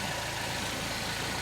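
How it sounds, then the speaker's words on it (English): A Peugeot 308 CC with a high fuel pressure fault code idles steadily, a low, even engine hum with a faint mechanical rattle, continuous and unchanging with no voices. "So we've been running it for 10 minutes here, just idling right enough."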